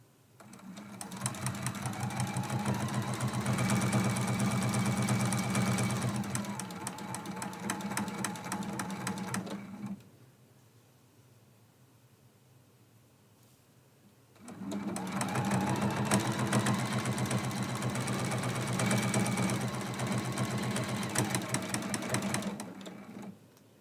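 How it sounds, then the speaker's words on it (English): Sewing machine stitching binding along a quilt edge, two long steady runs of rapid mechanical whirring separated by a few seconds of quiet, close and fairly soft. "And now we're sewing down this side."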